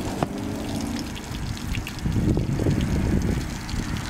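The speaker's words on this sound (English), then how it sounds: "Water's still coming out, but it finally just slowed down." Water draining out of a sinking boat trickles and splashes steadily in a low, continuous gush, growing a bit fuller partway through, with no voices.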